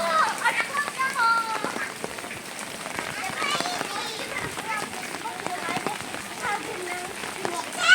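Children playing in the rain with character balloons, steady rain pattering on surfaces, with lively children's voices and chatter throughout and scattered close splashes and patter.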